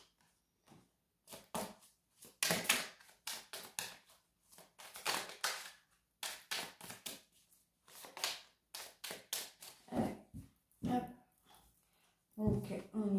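Tarot cards are shuffled by hand in repeated short riffling bursts with gaps between them, close and fairly quiet, with no speech over them.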